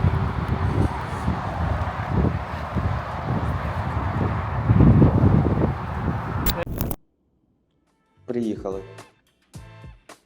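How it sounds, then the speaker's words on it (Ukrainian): Loud, steady wind buffets the microphone with a low rumble for several seconds, then cuts off abruptly before short bursts of speech. "Вітряно трошки сьогодні."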